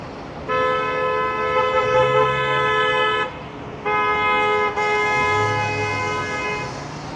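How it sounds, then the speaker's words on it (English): A car horn on a city street in Toronto blares in two long, loud, steady honks with a short gap between them, nearby, over a low rumble of traffic. "Honk honk."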